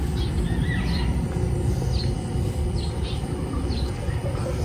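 Birds call with short chirps in the open Asingan, Pangasinan countryside, faint and repeated over a steady rumbling background.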